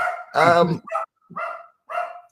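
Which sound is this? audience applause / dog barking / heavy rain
dog barking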